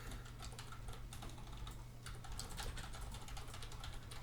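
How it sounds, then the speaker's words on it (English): Rapid computer keyboard typing fills the clip, close and continuous with an irregular clatter of keystrokes over a low steady hum. "typing and talking at the same time is a little bit challenging"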